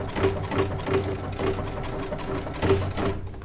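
A Baby Lock Altair sewing machine labors through a quilt sandwich with a circular sewing attachment. It gives close, uneven bursts of stitching with rhythmic thumps and a strained hum, and sounds like it is struggling.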